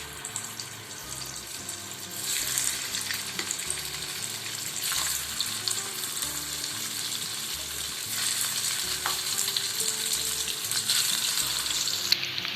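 Chicken 65 pieces deep-frying in hot oil, a dense, steady bubbling sizzle that holds throughout and swells slightly as more pieces go in, close and continuous with no voices.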